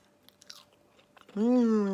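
Soft crunchy bites of a baked vol-au-vent pastry with seafood filling crackle faintly and intermittently, then a voice breaks in with speech.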